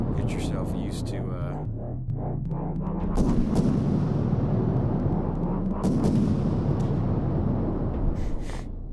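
A mech firing its guns in the video game Iron Rebellion, heavy rapid booming shots layered with rising mechanical whine, loud and continuous under a voice talking.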